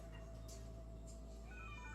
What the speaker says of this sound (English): A cat just spawned in.